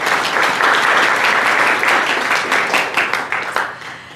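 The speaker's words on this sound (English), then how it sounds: "So a round of applause for them" A crowd applauds steadily for several seconds, the clapping loud and even before tapering off slightly at the end.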